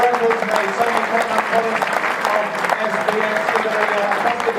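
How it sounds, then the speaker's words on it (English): A crowd applauding and cheering at a basketball event celebrating a world record, with dense, sustained clapping throughout and voices mixed into the noise. "Give a huge round of applause, everybody."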